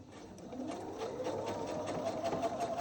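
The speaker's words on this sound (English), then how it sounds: "Okay, now we're going to turn it. And we're going to sew." A sewing machine stitching fabric for a Valentine pillow, a steady fast mechanical whirr with rapid needle ticking, running continuously at moderate volume close by.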